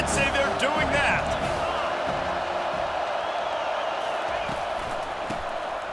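Crowd noise in the college football video game CFB 25 during USC vs Florida: a broad, steady roar of a stadium audience under continuous play-by-play commentary, swelling slightly at the start before settling into a sustained wash.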